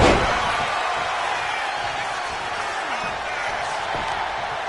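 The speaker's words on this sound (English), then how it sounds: "Just listen to this crowd." Wrestling crowd in a video game roaring loudly and continuously, a dense, sustained cheer that stays steady at full level, with no clear voices over it.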